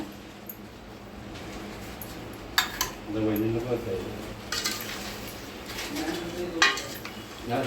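Mutton is stirred in a pan with salt, red chili powder, coriander-cumin powder and garam masala for a Satara-style mutton mirch. A spoon scrapes and clinks steadily against the metal while voices talk nearby.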